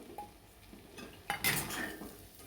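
A spoon stirring chopped onion into beaten eggs in a bowl for egg bhurji, a few light clinks followed by a short burst of scraping and mixing, close and alone.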